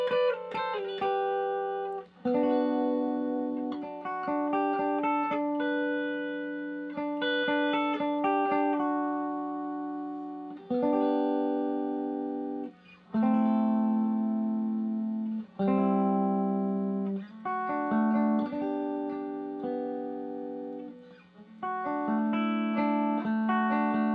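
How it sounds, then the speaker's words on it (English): An electric guitar with effects plays the verse section of a song, a slow run of ringing chords and picked notes that hang and sustain, steady and moderately quiet, with no talking. "So this whole section slowly sounds like this."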